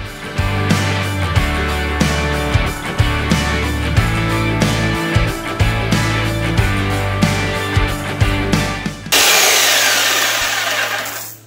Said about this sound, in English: Then I'm just gonna take my jigsaw, get my safety glasses, of course, and start cutting away.